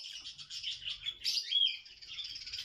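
Lutino ringneck parakeets in a breeding setup chirp continuously at close range, bright rapid tweets with a brief louder burst in the middle, no talk over them.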